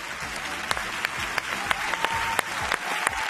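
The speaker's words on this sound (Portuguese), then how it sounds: "Um aplauso." Studio audience applauding a television guest, a full, sustained wash of clapping hands with sharper individual claps standing out, lasting a few seconds.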